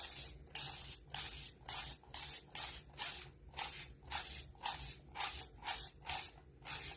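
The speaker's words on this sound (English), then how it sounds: "Okay, so plain water. Just going to spray that down." A spray bottle of plain water is pumped in a rapid series of about sixteen sharp hissing squirts, evenly spaced and close up.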